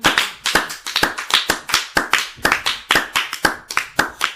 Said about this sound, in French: Nous acclamons encore pour la parole de Dieu.